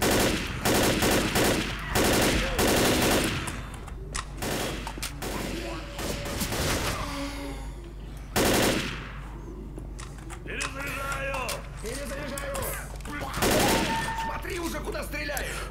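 Gunfire in the video game Left 4 Dead, with bursts of rapid shots and heavy volleys that come in clusters separated by brief lulls, a voice speaking between and under the shooting.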